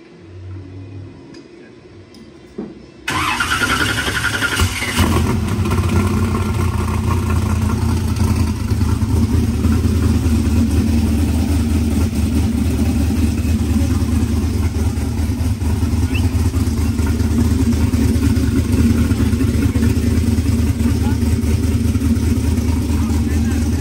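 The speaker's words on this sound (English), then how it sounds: "Attempting to start up our first car." A rebuilt car engine catches after a brief cranking and then runs continuously as a loud, steady, rough idle, with faint voices beneath.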